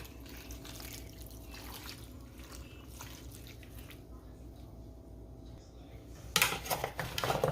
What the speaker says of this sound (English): And I'm pouring 2 cups of water in here.